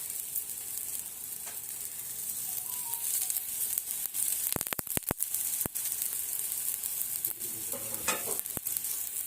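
Besan poli, a gram flour flatbread, roasts with oil on a pan, giving a steady close sizzle with scattered scraping clicks and a burst of sharp knocks midway.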